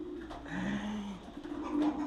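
Pigeons coo softly in a pigeon loft, low rounded calls repeating at a moderate distance over a faint background hiss, with no voices.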